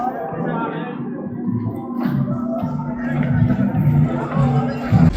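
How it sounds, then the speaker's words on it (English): Bangladeshi cricket fans arriving at a stadium for a T20 World Cup fixture make a steady hubbub of crowd murmur and shuffling, heard close up under a person talking nearby. "We've got a lot of fans coming in already. You can see probably, maybe not a full house, but pretty packed house. Lots of Bangladeshi fans here."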